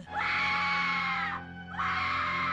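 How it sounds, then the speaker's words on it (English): A woman in the horror film Candyman lets out two long, loud, piercing screams close by, separated by a brief gasp for breath. "It's very annoying to watch people screaming. It's a fucking horrible noise, too."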